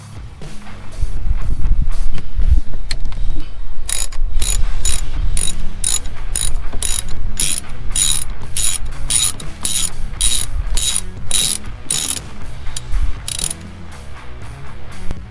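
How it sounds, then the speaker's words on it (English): Ratchet with a Torx T30 bit turning out steering wheel airbag screws, a loud close run of rapid regular clicks repeating steadily for many seconds. "So we need a Torx bit on this side and also on the other side."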